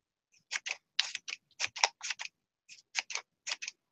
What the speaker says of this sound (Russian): сейчас я могу его быстрее нарезать за один удар ножниц